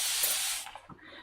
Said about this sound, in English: we just need to give it a bit of a spray with a very fine bit of water